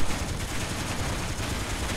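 Ship cannons fire in Space Engineers in a dense, rapid stream of shots. The barrage is loud and continuous, like steady automatic gunfire, with no pauses and no talking.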